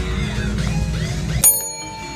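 Ringing elevator bells from a Spirit Halloween animatronic prop, with a mechanical hum and chimes leading to a sharp, loud bell strike whose tones ring on and fade.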